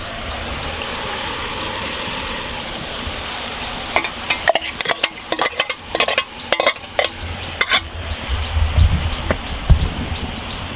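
Almost-cooked onions sizzle in a pan with cumin, dried chilli and garlic paste. A steady frying hiss gives way to a run of quick spoon scrapes and clinks against the pan, then the sizzle carries on.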